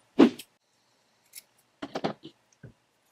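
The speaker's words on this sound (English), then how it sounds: "you can go ahead and cut off these ends" Scissors snip through crochet yarn ends with a few short, close, dry cuts, a louder snip first and then a cluster of quick quieter snips, no voices.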